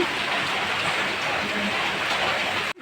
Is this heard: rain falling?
yes